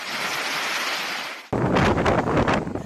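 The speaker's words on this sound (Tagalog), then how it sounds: "Bumubuga ang lakas ng hangin." Strong storm wind roars during heavy rain in Gonzaga, Cagayan, as a steady loud rush. Partway through it jumps to harsher, buffeting gusts that batter the microphone.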